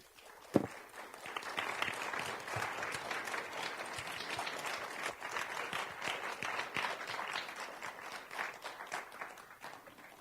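An audience applauds to welcome Dr. Helen Caldicott, a steady crowd of clapping that holds fairly even for about ten seconds after one sharp clap near the start.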